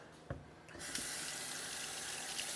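A kitchen tap turned on to rinse yellow and orange peppers, starting with a small knock, then a steady close hiss of running water and splashing that continues to the end.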